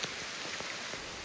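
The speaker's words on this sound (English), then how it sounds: "Yeah, it's raining." Wet-season rain falls steadily near a creek, a soft, even hiss of drops with a few faint patters, heard alone.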